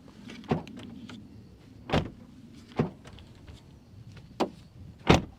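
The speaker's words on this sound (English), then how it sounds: "Now let's do a quick door sound check." A 2023 VW ID4's heavy, solid doors are opened and shut in a series of five sharp, close thumps and clunks spaced about a second apart over quiet background.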